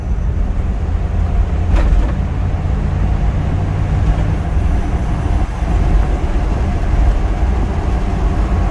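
A 1978 Dodge Ramcharger cruising in second gear with the windows down, giving a loud, steady engine and road roar with wind rush and no speech.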